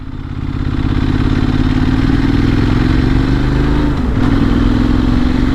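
A Benelli Leoncino 800 Trail motorcycle engine runs steadily and loud, its pitch slowly climbing as it revs, with a brief dip near the end before picking up again.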